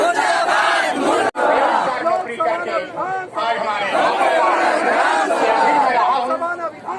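A large protest crowd chants and shouts together against the reopening of Prakash Industries, loud and close, with rhythmic massed voices and overlapping cries throughout.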